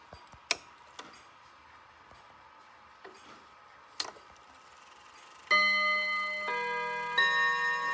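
A few sharp metallic clicks and taps, then an antique European clock's chime rings out with sustained ringing tones, struck twice in succession and fairly loud.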